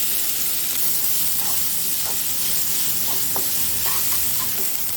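Fennel seeds, cinnamon and finely chopped onions sizzle in hot oil in a pan, a steady close hiss with faint crackles and occasional stirring, no voices.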